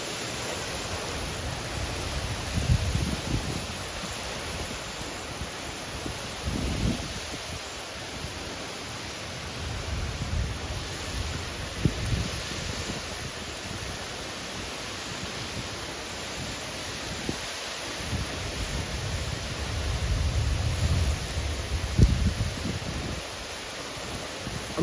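Strong wind gusts from a severe thunderstorm roar in a dense, steady wash of noise, with surges and rustling swelling and fading every few seconds; no speech.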